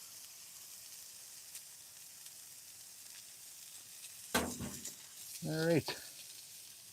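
Bone marrow burgers on an outdoor griddle give a steady low sizzle and hiss throughout, with a couple of louder scraping or clattering sounds near the end and a brief voice.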